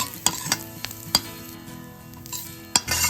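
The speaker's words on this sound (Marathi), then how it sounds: "त्याच्यामध्ये आपण कढीपत्ता घालून घेऊ त्यानंतर थोडस तीळ खोबरं थोडं छान परतून घेऊयात" Onion, curry leaves, sesame seeds and coconut fry in a pan while being stirred for Marathi alu vadi bhaji, a steady close sizzle broken by sharp spoon scrapes and clinks against the pan.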